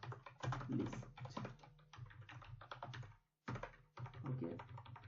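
Steady typing on a computer keyboard while entering code text, with a run of close, busy key clatter that pauses briefly near the end before resuming.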